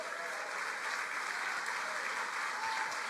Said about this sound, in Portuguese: Pode aplaudir, é para aplaudir o Senhor